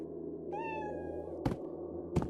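A cat in the horror video game Dread Neighbor gives a single clear, drawn-out meow, followed by two short thuds over a low, quiet ambient hum.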